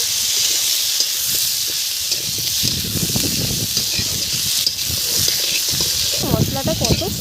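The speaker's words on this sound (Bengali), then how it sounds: "এবার টমেটোটা হালকা একটু ভালো করে ভেজে নেব।" Tomatoes fry with spices and onion in a pan for a village fish curry, making a dense hiss and sizzle, with irregular scraping and stirring bursts that grow busier toward the end.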